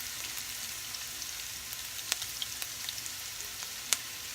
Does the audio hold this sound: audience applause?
no